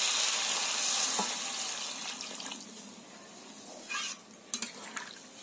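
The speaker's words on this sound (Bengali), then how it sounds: "এবার দিয়ে দেব পরিমাণ মতো জল।" Water is poured into a pan of prawn and taro curry, giving a steady, close wash of rushing and sizzling that fades, followed by a few light clinks and stirring sounds.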